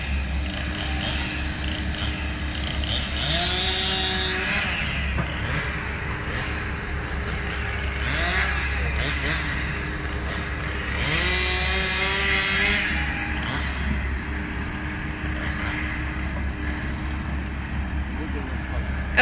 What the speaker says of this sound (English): he'll hand it to that guy with the chainsaw, he can cut it